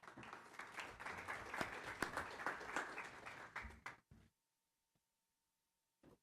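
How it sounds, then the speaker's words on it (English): Audience applause at a school district board meeting, a dense patter of many hands clapping for about four seconds before cutting off abruptly into near silence, with one faint tap near the end. "So we could probably give them a round of applause for their effort."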